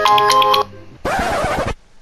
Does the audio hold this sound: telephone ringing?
yes